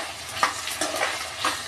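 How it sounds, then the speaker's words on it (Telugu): Ivy gourd and onion frying in a pan, with a steady broadband sizzle and a few soft stirring scrapes at uneven intervals, close and continuous, no voices. "మా ఇంట్లో దొండకాయ ఉల్లిపాయ పెట్టి వేయిస్తున్నాం"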